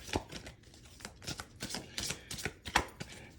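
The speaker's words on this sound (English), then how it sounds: "And we're giving this a good shuffle." Tarot cards being shuffled by hand, a run of quick papery riffles and soft slaps repeating in an uneven rhythm, close and clear with no talk.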